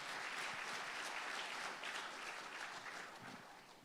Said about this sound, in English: I hope you all give him a big round of applause.